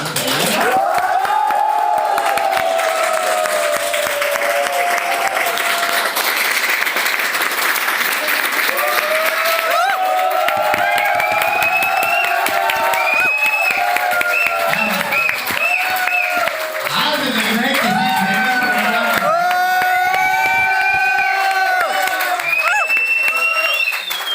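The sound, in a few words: audience clapping and cheering at live speech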